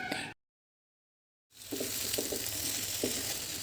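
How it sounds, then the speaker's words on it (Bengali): Chicken, carrot and onion sauté in a hot pan with a steady, close sizzle. It starts after a brief silence, with faint stirring ticks over the frying hiss and no voices. "এখন চিকেন গাজর আর পেঁয়াজ সমস্ত কিছু মিশিয়ে খুব ভালো করে কষে নিতে হবে"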